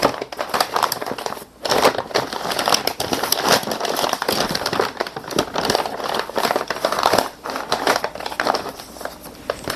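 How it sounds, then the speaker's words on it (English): Brown paper crinkles and crumples steadily as it is rolled around a jar of homemade horseradish, a dense close-up rustle running without pause for about ten seconds. "Now I'm going to take some brown paper and put my homemade horseradish and roll it up in the brown paper."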